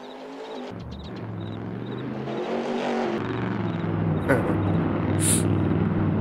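Trucks drive by in the Farming Simulator 22 farming game, a steady engine drone building gradually with a faint whir, under game ambience with no talk.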